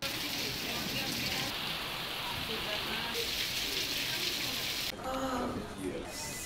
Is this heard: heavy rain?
yes